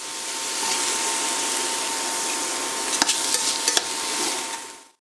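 Pieces of fish searing in a hot frying pan with oil give a steady, dense sizzle throughout, with a few brief clinks and scrapes near the end before it cuts off.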